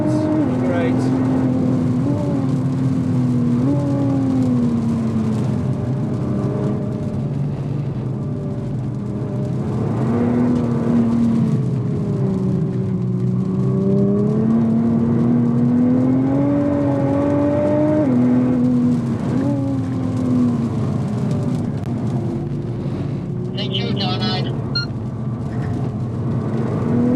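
A 2017 Nissan GT-R laps the Spa-Francorchamps circuit in the rain. Its engine drones loudly and continuously, rising and falling through the gears over a constant wet-road hiss.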